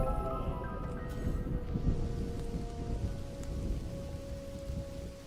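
Rain falls in the video game Mind Over Magic, a dense, steady patter with a low rumble like distant thunder and faint tonal game sounds over the top, no speech.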